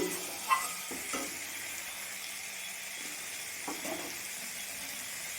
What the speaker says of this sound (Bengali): এখন মশলাটা আমি ভালো করে কষিয়ে নেব।